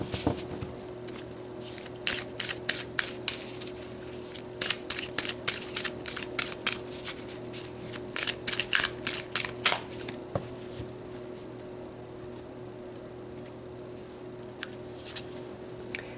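Starseed oracle cards are shuffled in a long run of crisp riffling bursts with brief pauses, close and fairly quiet over a faint steady hum, with no talking.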